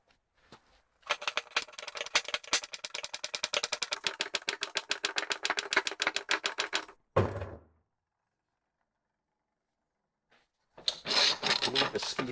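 A wheel bearing being pressed into the rear hub of a 2001 Mercedes-Benz W210 E55 AMG: a rapid ratcheting rattle for several seconds, then a heavy thump, a silent pause and another burst of rattling.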